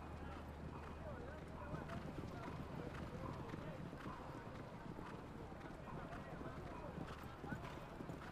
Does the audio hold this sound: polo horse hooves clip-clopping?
yes